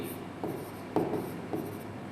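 Chalk scrapes across a classroom board in a science lesson. Several short rubbing strokes with small taps sit over a faint room hum, and there is no talk.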